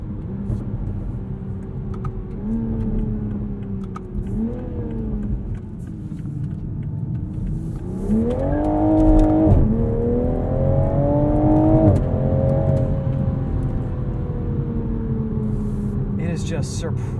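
A 2021 Toyota Supra 3.0 engine hums steadily and rises in pitch through several gear changes as it accelerates, close and continuous, with some faint background noise.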